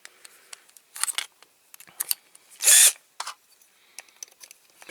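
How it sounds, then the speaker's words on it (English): A drill bores into a die-cast Corgi Toys Massey Ferguson 165 toy tractor, giving short whirring bursts and one louder sustained spin, close by with scraping handling noises between. "You can't get a big enough drill down there"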